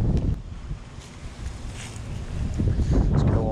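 Wind gusts outdoors at the water's edge during bluegill cast netting, a steady broadband rush buffeting the microphone and building louder toward the end, with no speech.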